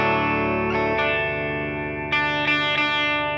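A Fender Custom Shop Stratocaster with a super heavy relic finish, played through its bridge pickup with effects on, rings out in sustained bright chords, with fresh strums near one and two seconds in, clear and loud, no talk.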